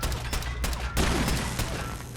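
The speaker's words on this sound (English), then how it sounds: "It's the rifle I got from Dance." An upgraded rifle in a modded Fallout 4 game fires a quick string of loud, sharp shots in uneven bursts, close and punchy, with no one speaking over them.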